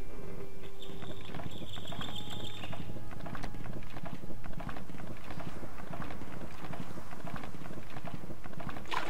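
Rapid hoofbeats from a horse ridden in Morrowind, a steady galloping clatter running throughout under a continuous windy ambient wash.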